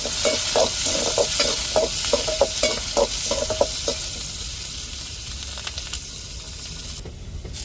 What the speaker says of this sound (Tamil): இஞ்சி பூண்டை நல்லா வதக்கி விட்டுக்கிடுவோம்.